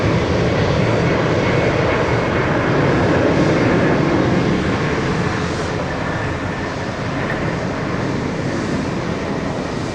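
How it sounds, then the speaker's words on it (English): A heavy airliner on the runway at Tampa International Airport roars loudly and continuously, a dense steady jet-engine rumble with slight wind noise on the microphone. "see how heavy that airplane is."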